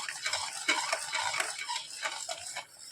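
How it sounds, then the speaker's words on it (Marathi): Upma being stirred in a hot pan, a spoon scraping and tapping against the metal in quick irregular strokes, close and fairly quiet, with no talking. "गरमचं गरम मस्त असं आणि हलवत राहायचं आहे म्हणजे ह्या गुटल्या होणार नाही"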